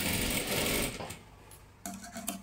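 A sewing machine stitching a salwar, running in a loud steady whir for about a second, pausing, then starting again in a short closer burst; no talk.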